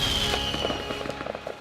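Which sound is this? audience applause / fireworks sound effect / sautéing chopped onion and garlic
fireworks sound effect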